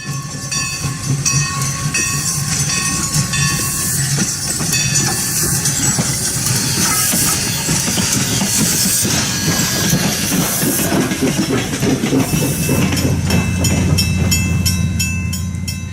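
Everett Railroad steam locomotive #11 pulling an excursion train rumbles past loudly and close at Loop Road, Pennsylvania, with continuous rolling noise, rhythmic wheel clatter and a brief whistle or horn toward the end.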